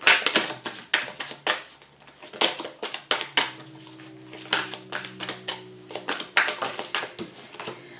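Tarot cards cut and shuffled by hand, a steady series of sharp riffling slaps and taps, close and clear, with a faint low hum underneath and no talking.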